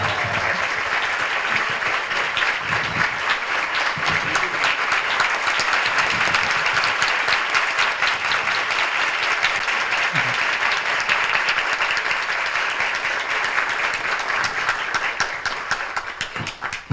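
Sustained, dense audience applause at a Hare Krishna temple talk in Mumbai, steady and loud throughout with a slight rise midway and no speech over it.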